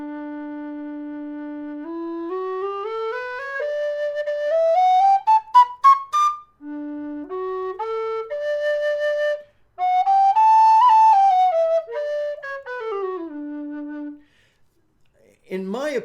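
A low D Goldfinch tin whistle plays a slow melody alone, with clean sustained notes rising and falling in steady phrases and brief pauses between them.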